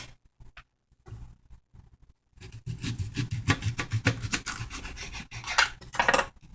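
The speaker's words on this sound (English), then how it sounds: "I'm gonna be chopping up the garlic. The zucchini." Zucchini and garlic are chopped on a cutting board, with a few sparse knife taps first and then a quick, fairly close run of rhythmic chopping strokes.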